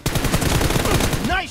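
Rapid automatic gunfire in PUBG Mobile rattles off in a loud, close, continuous burst of dense shots, ending in a brief ringing tail.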